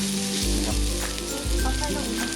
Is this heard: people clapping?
no